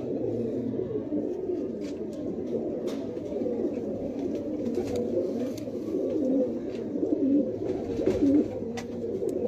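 Pigeons coo steadily in a loft among fancy breeding birds, a layered, continuous murmur of low throaty calls from several birds close by, with faint clatter and rustling over it.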